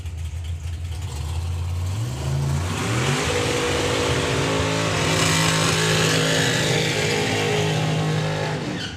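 A Giles and Hartley dragster's engine at a drag strip roars loudly and steadily, rising in pitch as it revs up and holding a harsh, continuous blare before easing off at the end; no voices.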